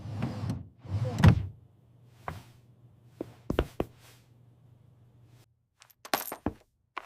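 A wooden desk drawer slides open and shut, with scraping runs and several sharp knocks and clicks spread across a quiet room, close and moderately loud.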